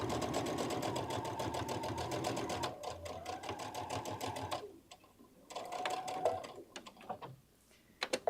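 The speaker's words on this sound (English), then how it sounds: "So we're just gonna back stitch." A sewing machine back-stitches a pocket onto a garden lattice clutch bag, running in a fast, even mechanical chatter close by. It pauses briefly and then runs again in shorter bursts.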